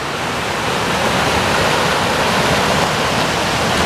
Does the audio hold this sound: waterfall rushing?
yes